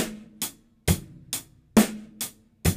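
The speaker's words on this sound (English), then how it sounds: "a basic rock groove" A basic rock drum beat: bass and snare hits alternating in a steady rhythm with a hi-hat, close and dry, no voices.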